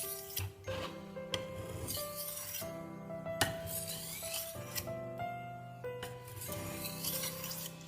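A blacksmith's blade is sharpened with repeated, quick rasping strokes, each a short scrape with ringing metallic overtones, close and fairly faint, with no talk.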